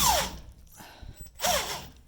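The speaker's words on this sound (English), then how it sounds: "The bottom one you can get an impact gun on" An impact gun whirs in two short bursts while loosening the rear brake caliper bolt on a Ford F150, loud and close with a brief pause between.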